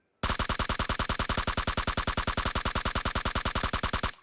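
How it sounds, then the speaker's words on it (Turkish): An M4 rifle fires in a mobile shooter video game, a loud rapid full-auto burst of evenly spaced shots lasting about four seconds, then stopping abruptly. "Mesela bak M4 lazer atayım ben."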